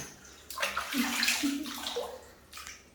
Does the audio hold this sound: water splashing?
yes